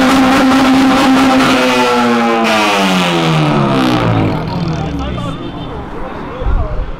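An engine revs hard, its pitch falling away as the vehicle passes and recedes, loud and close at first, then fading; voices talk over it.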